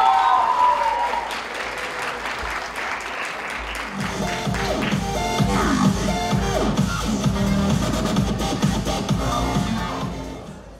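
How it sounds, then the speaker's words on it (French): Loud applause from an audience at a live show, steady clapping that swells after a few seconds and holds dense and full before tapering at the end, with some crowd noise mixed in. "On l'applaudit bien fort."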